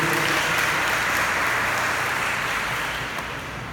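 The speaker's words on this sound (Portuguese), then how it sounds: "Vamos aplaudir a palavra de Deus." Church congregation applauding together after a scripture reading, a steady dense wash of clapping that holds evenly and tapers slightly near the end, with no talk over it.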